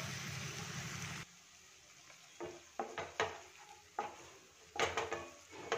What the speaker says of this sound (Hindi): तो 4-5 मिनट इस तरह से भूनेंगे प्याज को।